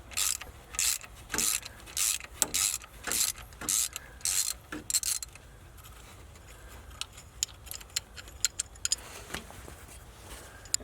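A thread tap is being backed out of a bolt hole on a seized Ford Maverick: a close, rhythmic series of sharp ratcheting clicks in short bursts, then sparser ticks and scrapes.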